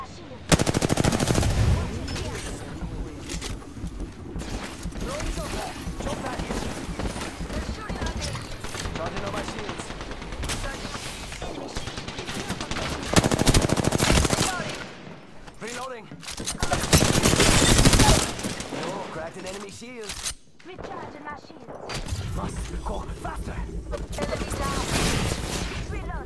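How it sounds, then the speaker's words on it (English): Dense bursts of video game gunfire, machine-gun rattles and single shots, crackle almost nonstop and loud, with brief lulls, while a player talks over the shooting. "They're shooting at me. I'm spotted. Taking fire."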